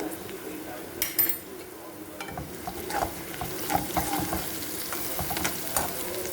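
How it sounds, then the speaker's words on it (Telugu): Ginger garlic paste fries in hot oil while a utensil stirs and scrapes the pan, a continuous sizzle broken by clinks and scraping strokes, close and fairly loud. "అల్లం వెల్లుల్లి వేసాక బాగా ఇలా కలుపుకోవాలండి, లేకపోతే ముద్దలాగా అలా ఉండిపోతుంది."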